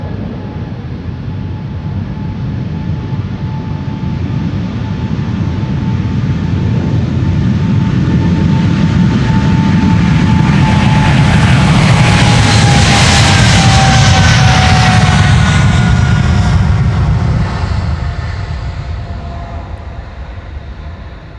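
A KLM Boeing 777-300ER takes off from the Polderbaan runway at Amsterdam Schiphol, a loud, sustained jet roar that swells to a peak and then slowly fades as the aircraft climbs away.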